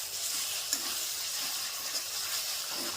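Spice masala fries in oil for a fish curry, a faint, even hiss with a couple of soft clicks from stirring, quiet and without any talking.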